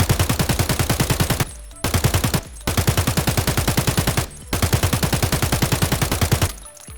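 An AK-74N rifle fires in Escape From Tarkov in four long full-auto bursts, each a rapid, even string of loud close shots separated by short pauses.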